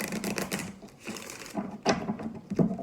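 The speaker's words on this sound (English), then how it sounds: "Let's do another shuffle." Soft, rapid clicking and riffling of tarot cards being shuffled, close and quiet, in irregular bursts with a few sharper snaps near the end.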